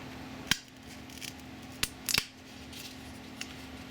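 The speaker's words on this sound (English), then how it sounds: "I'm just going to poke 2 holes in, relatively close together" A paper clip pokes two holes close together in a 3D-printed lantern, heard as three sharp, close clicks or pops spaced apart over a quiet background with a steady low hum.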